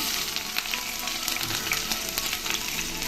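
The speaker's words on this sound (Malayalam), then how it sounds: "നമുക്കിതിലേക്ക് അര സ്പൂൺ കടുക് ചേർത്ത് കൊടുക്കാം ഇതിലേക്ക് നമുക്ക് കറിവേപ്പില ഇട്ട് കൊടുക്കാം ഇഞ്ചിയും ഉള്ളിയും ചേർത്ത് കൊടുക്കാം" Mustard seeds, curry leaves, ginger and onion fry in hot oil for a squid roast, giving a steady close sizzle with scattered crackles and pops throughout, no voices.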